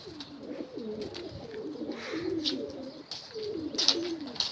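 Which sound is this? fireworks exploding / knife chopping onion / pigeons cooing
pigeons cooing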